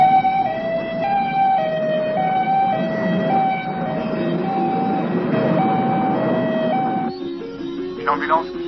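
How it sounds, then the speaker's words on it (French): An ambulance leaving a hospital wails with a loud two-tone siren alternating steadily and close, with traffic noise beneath, before the tone shifts and fades near the end. "Une ambulance quitte l'hôpital avec un Américain à bord."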